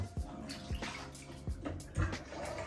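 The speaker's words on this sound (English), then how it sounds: "So first you wanna drain the water." Water drains from a tub of soaking laundry with a steady gurgling wash, and sharp drips or splashes land roughly every half second over the continuous flow.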